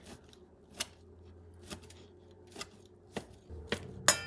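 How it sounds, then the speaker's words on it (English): Food being chopped with a knife for a Creole shrimp dish, about six sharp, evenly spaced knife strikes on a board, close and fairly quiet, with no talking. "just going to chop it a little bit"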